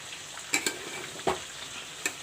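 Fried onion being stirred into a frying pan of rice, with a steady sizzle underneath and a few sharp clinks and scrapes of the spatula against the pan, close and fairly quiet, no talking.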